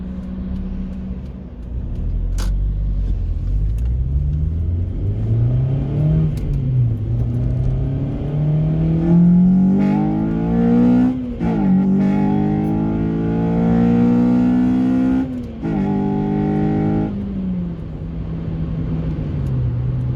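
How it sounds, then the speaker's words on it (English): A Honda Civic Type R engine revving hard through the gears, with a loud induction-kit intake roar that rises in pitch as VTEC engages, drops at each shift, and climbs again. "you can hear the induction kit, you can hear the VTEC"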